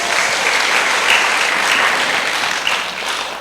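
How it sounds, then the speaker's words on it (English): Audience applauding at an emancipation gala at a creative arts centre, a dense, loud, continuous round of clapping that carries on evenly with no talk over it. "we need to give them a round of applause for that"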